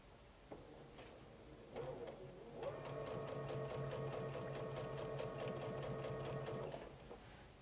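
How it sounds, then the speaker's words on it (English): A sewing machine stitches a quilt seam on a Pineapple Log Cabin quilt. A few soft clicks lead into a steady, close mechanical whir of rapid stitching that runs for about four seconds, then stops. No one speaks. "And we're ready to sew that seam."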